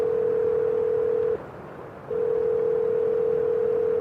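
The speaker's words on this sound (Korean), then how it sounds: "여러 차례 어디론가 전화를 걸었다" A steady telephone dial tone while placing a call, continuous and loud, briefly dropping out for about a second before resuming. No voices.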